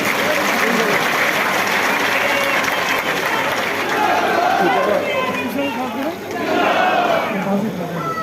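Crowd at an election rally in Poonch applauding and cheering to welcome guests onto the stage, a loud continuous wash of clapping and voices swelling near the end.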